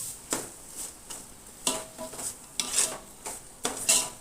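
A spoon scrapes and stirs vegetables and rock salt in a pot, a run of irregular scraping strokes with soft metallic clinks, close and moderately quiet, no voices.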